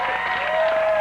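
Canned studio applause from a sound-effect button on a late-night radio call-in show, a short, dense burst of clapping and crowd noise lasting about a second, bright and steady.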